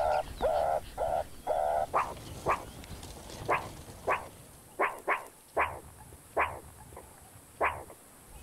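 Meerkats give short, sharp barking alarm calls in a regular series, each a clipped yelp about every half second to second, fairly near against quiet background.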